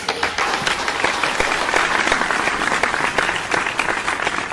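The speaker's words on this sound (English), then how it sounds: "Let's give everyone a big round of applause." Audience applause after a group spells out Christmas at a church or catechism gathering, dense steady clapping from many hands filling the whole stretch, fairly loud and close.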